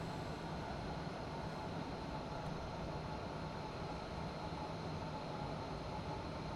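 A train on the Pegnitztalbahn near Reichenschwand runs in a train simulator game. It makes a steady, dense, unbroken rumble and rolling hum with no voices.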